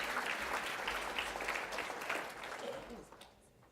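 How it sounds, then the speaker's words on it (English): An awards-ceremony audience applauds at a school sports awards night, a dense steady wash of many hands clapping that holds loud and then fades away toward the end. "Round of applause for Phil Grillo from Rebel"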